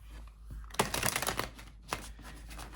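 A Muse Tarot card deck being shuffled by hand, with soft riffling and flicking bursts and a couple of sharper card snaps, quiet and close with no talk.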